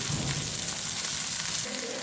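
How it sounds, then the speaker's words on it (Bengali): Shredded cabbage and onions frying in a hot pan, a steady dense sizzle running the whole short stretch with a slight drop near the end. "এখন এর মধ্যে আমি দিয়ে দেব বাঁধাকপি কুচি"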